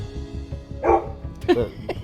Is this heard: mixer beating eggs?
no